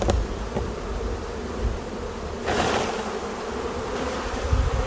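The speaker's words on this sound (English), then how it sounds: "the older bees will fly out, leaving the young nurse bees in here" Dense buzzing of honeybees rising from an opened hive frame crowded with young nurse bees, steady and close throughout with a brief louder swell partway through, no talking.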